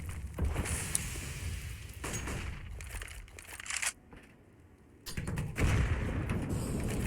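In a Counter-Strike match on the Vertigo map, a grenade explosion bursts out amid dense, loud broadband game noise with sharp gunfire-like cracks, briefly dropping to a quieter lull before the noise surges back.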